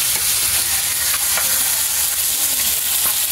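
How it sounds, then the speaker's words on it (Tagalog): Bottle gourd simmering in coconut milk with lemongrass, a steady close bubbling and sizzling boil at fairly loud level, no talking. "kumukulo na po"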